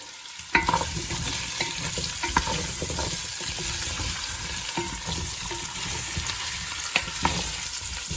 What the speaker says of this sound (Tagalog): I'm going to fry as well the carrots.